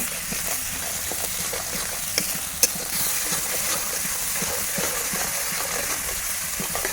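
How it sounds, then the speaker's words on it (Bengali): Onions and green chillies sauté in a pan in a village kitchen, giving a steady close sizzle and hiss with scraping stirring strokes throughout and one brief sharp clink. "এখানে পেঁয়াজ আর কাঁচামরিচ দিয়ে ভালো করে কষিয়ে নেব"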